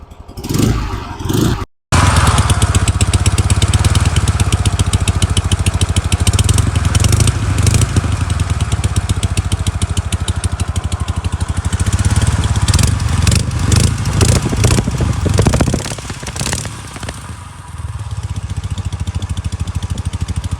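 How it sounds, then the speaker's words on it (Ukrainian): An old 1957 M72M motorcycle engine thumps and rumbles loudly at idle after a brief cut, with clattering mechanical noise and slight shifts in its steady beat. "І давайте послухаємо, як він працює."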